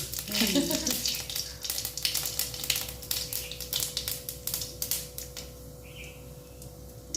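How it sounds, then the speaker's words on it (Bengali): Dried red chilli and whole cumin seeds dropped into hot mustard oil, a continuous crackling sizzle with sharp popping bursts, close and fairly loud, easing slightly toward the end, no voices. "তেলটা গরম হয়ে গেছে একটা শুকনো লঙ্কা মাঝখান দিয়ে দিয়ে দিয়েছি দিয়ে দিচ্ছি গোটা জিরে"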